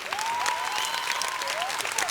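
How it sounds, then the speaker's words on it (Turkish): An audience applauds in tribute during a televised Turkish music program, steady clapping throughout while a sustained melodic tone rides over it. "Onu bir saygıyla alkışlayalım."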